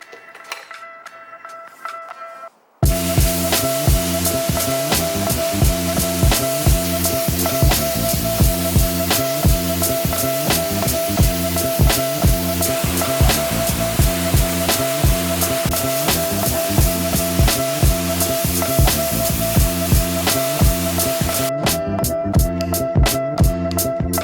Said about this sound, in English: after spraying down the whole car